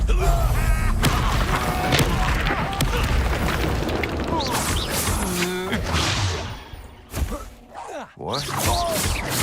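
A Bombarda spell explosion in Hogwarts Legacy during combat: heavy booming blasts and whooshes amid dense, loud battle noise, with voices speaking over the fight.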